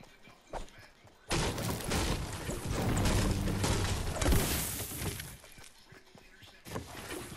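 Wood being broken for building materials in the Fortnite video game, a sustained run of loud crunching, splintering impacts and thuds lasting several seconds, with game ambience around it and no talking.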